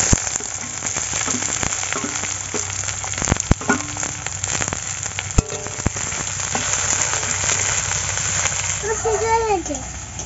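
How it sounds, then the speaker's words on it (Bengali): Chopped onion and garlic frying in a pan, a low crackling sizzle with scattered sharp pops beneath a person talking, and some chirping toward the end. "পেঁয়াজ রসুন গুলো ভেজে নিয়েছি"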